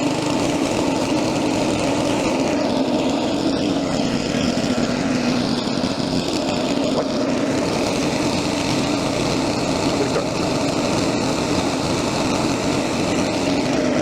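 A Westermann machine powered by an EGO battery runs steadily in its higher power mode, giving a loud, continuous high-pitched motor whine with no pauses and no talk over it.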